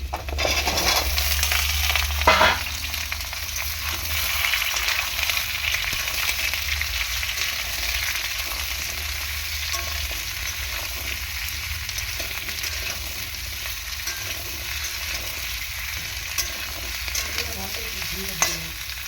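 Fresh ginger and mixed vegetables frying in a pan give a constant, close hiss, with a sharp clatter near the start and soft scraping of stirring throughout, no talking.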